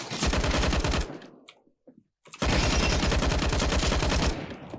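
Rapid automatic P90 fire in the shooter game CS:GO comes in two loud, sustained bursts separated by a short near-silent pause.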